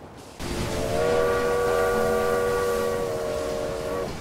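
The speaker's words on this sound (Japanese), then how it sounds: "これで貨物列車を追い抜いていきますね" A freight train from a Railway Empire 2 steam-era railway game rolls along the tracks with a sustained whistle or horn tone held over a steady rumble, starting abruptly and continuing evenly.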